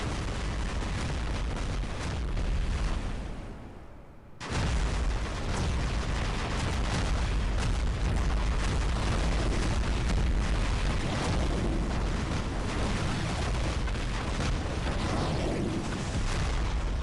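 Hydra rocket weapon in War Robots, a loud continuous roar of rocket launches and explosions, briefly dipping before resuming as a dense, sustained barrage of booms.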